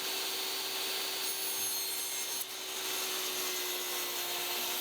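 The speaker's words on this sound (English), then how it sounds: "Are you guys getting bored of watching me rip wood yet?" Steady saw noise while ripping pallet wood boards for a glued-up lathe blank, a continuous whirring cut with a constant tone and a brief dip midway, no talking.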